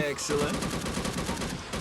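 Rapid gunfire in the zombie shooter game Unkilled, dense bursts of shots layered over game sound effects and background music, loud and continuous through the moment.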